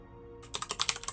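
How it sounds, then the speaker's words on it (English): Rapid, furious typing on a computer keyboard by a StarCraft 2 player at a tournament: a dense burst of sharp, close key clacks that starts after a short quiet lead-in, with no talking. "furiously typing, trying to get some answers"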